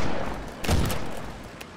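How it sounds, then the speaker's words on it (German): During a Warhammer 40K Deathwatch tabletop session, a gunshot sound effect bursts out as a single loud blast with a rumbling tail, playing over a steady background with no talk. "Und dann kannst du schon den ersten Schuss hören von"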